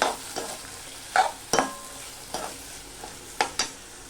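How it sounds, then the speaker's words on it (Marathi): Chopped tomatoes sauté in a hot pan, a soft sizzle running beneath a series of sharp scraping stirs from a spoon against the pan, spaced at irregular intervals. "आता टोमॅटोही चांगला परतून घेऊया"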